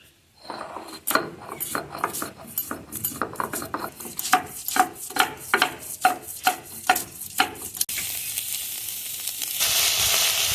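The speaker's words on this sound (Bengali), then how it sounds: "এখন এগুলো সব এখন ভালোভাবে ভেজে নেব" Pieces of taro (kochu mukhi) frying in a pan in a home kitchen, heard as a steady run of rhythmic metal scrapes and clinks from a spoon stirring, then a brighter, louder sizzle near the end.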